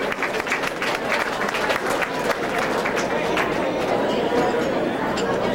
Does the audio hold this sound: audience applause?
yes